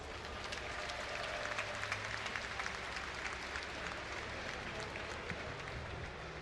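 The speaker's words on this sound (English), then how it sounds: "Give a cheer for Empire Koss." A live esports crowd at IEM Gamescom cheers and claps steadily for the StarCraft player Koss during a round-of-16 match, loud, dense and continuous throughout with a few sharper peaks.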